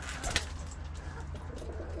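Soft pigeon coos murmur steadily at close range, a low rhythmic cooing with a brief brighter flutter near the start.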